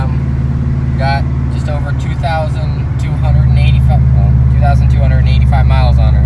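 Subaru WRX engine droning steadily from inside the car as it drives along the road, a low continuous hum that grows slightly louder partway through, with someone talking over it throughout.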